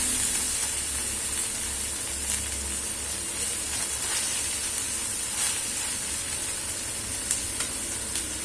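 Rice tipped into a hot pan for egg fried rice sizzles and hisses steadily and loudly throughout, with faint stirring scrapes and no voices.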